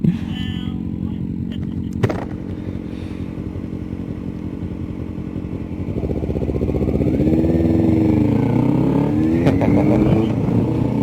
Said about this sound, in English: the Ninja does sound good with that Yoshi pipe